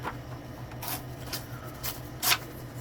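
Decorative paper is torn by hand in several short, crisp rips, the last one the loudest, over a faint steady hum.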